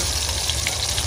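Fish frying in a pan at a village picnic gives off a steady, dense sizzle and crackle that fills the whole moment close up, with no talking.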